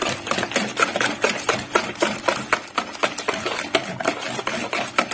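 Lemon cream cake batter being mixed, a quick rhythmic clatter of a utensil beating against a bowl, steady and close, with no talking.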